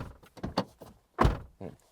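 The door of a 2025 Toyota LandCruiser Prado is closed several times, a series of close, solid thuds and clunks with one loud slam in the middle and brief quiet gaps between.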